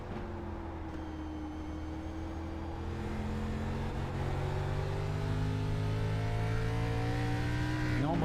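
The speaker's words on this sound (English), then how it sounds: "You can almost hear Devin with how tricky it is on the throttle on corner exit" Onboard race car engine at New Smyrna Speedway in a Grand National Series race, revving loud and close as the throttle is fed in unevenly on corner exit, pitch climbing steadily with a sharp rise at the end.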